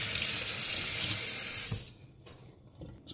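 Tap water gushes steadily into a sink while a dumpling is rinsed under it, then the flow cuts off, leaving a few small drips and clatters.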